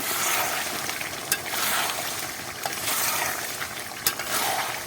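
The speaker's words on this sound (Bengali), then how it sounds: "ঢাকনাটা আগলা করে নেব এবার এটা নাড়া দিয়ে নেব" Meat cooking in a little oil in a pan being stirred, a steady close sizzle with occasional sharp scrapes and clicks of the spoon against the pan, no voices over it.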